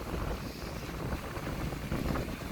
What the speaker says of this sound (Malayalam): ഏകദേശം മണിക്കൂറിൽ അറുപത് സ്പീഡിൻ്റെ കാറ്റാണ് ഇപ്പോൾ വീശുന്നുള്ളത്